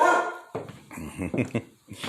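A house dog in a mobile home gives a loud bark or two at the start, followed by a person talking nearby as the barking stops.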